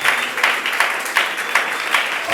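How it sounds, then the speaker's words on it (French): Church congregation clapping and cheering in praise to God, a broad steady wash of applause with rhythmic swells about every half second, moderately loud and filling the space. "Est-ce que tu peux acclamer pour la gloire de ton Dieu?"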